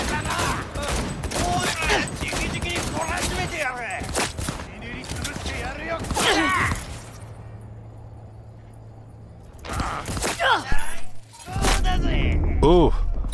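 Bursts of gunfire from a gunfight in the Cyberpunk video game, loud and rapid, with a quieter lull in the middle before more shooting, while someone talks over parts of it.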